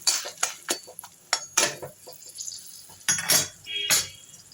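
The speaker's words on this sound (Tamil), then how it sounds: "அந்த ஜூஸும் இந்த கருவேப்பிலை ஜூஸும் ஒன்றா கலந்துடணும்" Ginger juice and curry leaf juice mixed together for ginger lemon rice, heard as close, irregular clinks and scrapes of a spoon against a metal vessel with short bursts and pauses.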